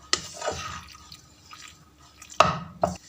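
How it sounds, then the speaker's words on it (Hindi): Chicken macaroni being mixed with mayonnaise, giving a few close, soft wet squelches and clacks of a spoon against the bowl with short quiet gaps between. "मायोनीज हमने डाल दिया है, अब इसको हम मिक्स कर रहे हैं।"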